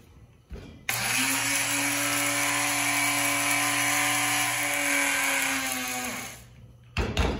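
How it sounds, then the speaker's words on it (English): An old electric coffee grinder milling about a cup of rye grain, a loud steady motor whine that starts abruptly, holds for around six seconds, then winds down, with a short burst after. "So I just use an old coffee grinder."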